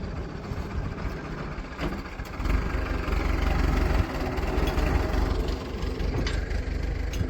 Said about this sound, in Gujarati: હવે એ ટ્રેક્ટર આગળ લઈ લે થોડું